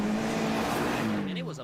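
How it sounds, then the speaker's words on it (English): A rear-wheel drive rally car at a rally driving school is driven hard: a sustained engine drone with a steady tone that dips slightly near the end, over brief tire noise. "I spent a few minutes driving one of their rear-wheel drive cars"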